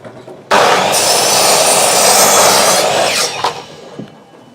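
Logosol sawmill bar saw ripping through wood while milling boards for a firewood rack: a sudden loud, steady buzzing cut lasting about three seconds, then easing off into the lower idle of the saw with a few knocks.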